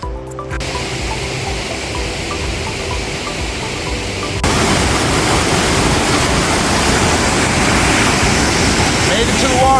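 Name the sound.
Millie Batch waterfall gushing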